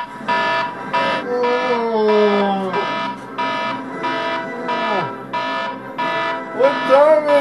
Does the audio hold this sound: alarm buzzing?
yes